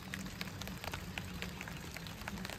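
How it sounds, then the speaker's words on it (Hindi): Rain falls on an umbrella in a garden, a steady dense patter of drops with scattered sharper taps, close and even throughout. "बारिश हो रही है, आवाज़ आ रही है, छाते पर गिर रही हैं बूंदें"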